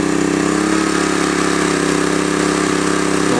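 A Honda EM400 generator engine runs loud and steady, holding a continuous mid-pitched drone with a slight rise in pitch as it revs up under load.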